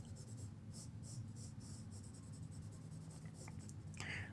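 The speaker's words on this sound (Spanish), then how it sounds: "Difumino estas zonas para borrar un poco la textura del lápiz." A blending stump rubs across a pencil drawing on paper in steady soft strokes, a faint close scratchy hiss that repeats rhythmically, while someone speaks quietly at times.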